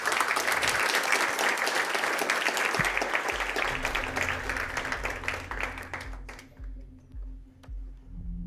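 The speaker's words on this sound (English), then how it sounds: "let's give our speaker another round of applause" A conference audience at NixCon 2024 in Berlin applauds in a loud, dense burst of clapping that thins to scattered claps toward the end.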